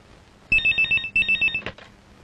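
A telephone rings in two short bursts of rapid electronic trilling, loud and close, followed by a brief clatter as it is picked up, with no talking.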